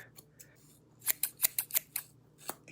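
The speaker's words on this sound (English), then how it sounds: "So Alicia cut my hair for me" Scissors cutting hair, close by: a few light snips at first, then a quick run of crisp, sharp snips with another snip near the end.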